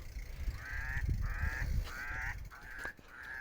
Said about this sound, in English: The bird's not happy with him.